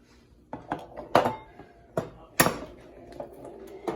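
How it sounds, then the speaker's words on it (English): Eggs are cracked into a bowl one at a time while making cheesecake, giving a series of sharp taps and clinks against the bowl with quiet handling noises in between. The knocks are close and irregular, with no talking. "And I crack them in my bowl."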